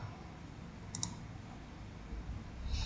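A computer mouse clicks the save button on a PHP/MySQL helpdesk form: two quick, faint clicks close together near the middle, over a quiet room hum with no talking.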